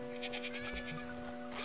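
Sheep bleat in a series of quick, wavering calls from the Superbrothers: Sword and Sworcery video game, set over a steady synthesized drone, with a final bleat near the end.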